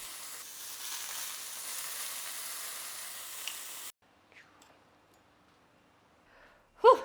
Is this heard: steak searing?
yes